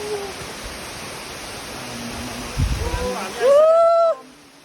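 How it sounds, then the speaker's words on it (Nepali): Steady broadband rush of the Tin Dhare waterfall, its water noise constant and moderately loud throughout, with a brief low thump near the end and a short whistling bird-like call rising over the roar. "तीन धारे झर्नामा"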